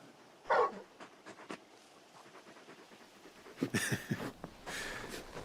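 A large dog in Final Fantasy XVI whimpers and pants in short, fairly faint bursts, with a few soft breathy sounds spread across a quiet game scene.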